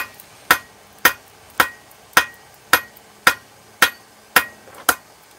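A blacksmith's hammer strikes hot steel on an anvil while forging grill tools, ten sharp ringing blows at a steady, even rhythm, loud and close with no talking.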